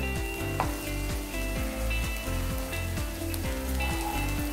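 Drumstick leaves fry in a pan for a curry, a dense steady sizzle with regular rhythmic stirring strokes scraping the pan, close and continuous, with no voices.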